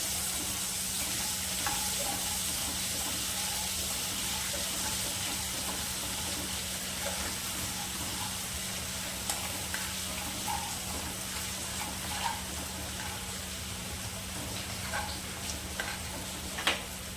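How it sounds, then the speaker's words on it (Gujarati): Ginger garlic paste sautéing in a pan for a homemade paneer masala, a faint, steady sizzle with occasional light ticks and stirring clicks, alone without talk. "આદુ લસણની જે પેસ્ટ બનાવવાની હતી તેને આપણે આમાં નાખશું અને 2 મિનિટ એને સાતળશું."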